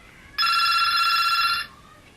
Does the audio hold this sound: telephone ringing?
yes